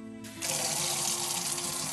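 Tap water runs steadily into a pot for a vegan cauliflower soup, a loud continuous splashing gush that starts abruptly after a brief quieter trickle and fills the rest of the clip.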